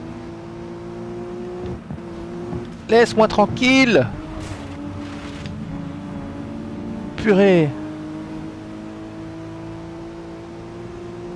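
Racing cars in the video game GRID Legends hum on a steady engine drone, with two bursts of sharp revving and tire squeal rising and falling, while someone talks in French over it.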